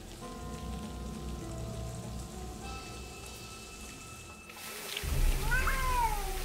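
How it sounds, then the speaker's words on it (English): A cat meows in the rain in the video game Lost Horizon: steady rainfall patters throughout, then a sudden louder rain swell carries a couple of close, wavering meows near the end. "Just a mangy cat."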